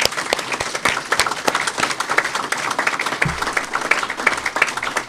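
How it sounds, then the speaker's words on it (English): Sustained audience applause for faculty members at a STEM building grand opening, a dense wash of clapping from a crowd that holds steady throughout. "Audience, let's give them a applause."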